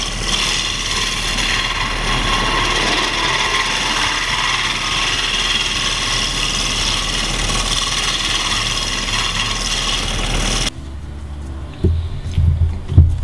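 A wood lathe turns a maple scoop with a steady, loud broadband whir and cutting hiss for about ten seconds, then the lathe stops abruptly, leaving a quieter room with a few small knocks.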